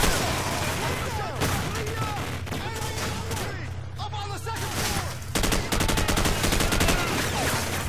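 Rapid bursts of automatic gunfire crackle through a Call of Duty: Modern Warfare firefight, near and loud with dense repeated shots and a fast rattling stretch at the end, while a voice talks faintly underneath.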